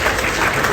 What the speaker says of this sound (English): Wanna clap for Yadi?